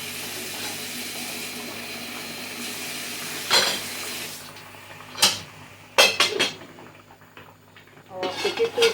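Onion frying in hot oil in a pot while cooking Cameroonian ndole, a steady sizzling hiss broken by several sharp clinks and scrapes of utensils against the pot.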